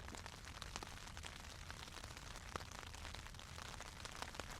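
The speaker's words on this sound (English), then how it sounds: "rain on the tent." Steady rain patters on a tent on farmland at night, a dense, even hiss of drops with occasional slightly louder taps, quiet and unbroken with no voices.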